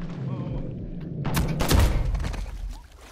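Revolver gunshots in Uncharted 4 multiplayer: a few sharp, loud broadband cracks in a cluster near the middle, over a busy game background with some low rumble.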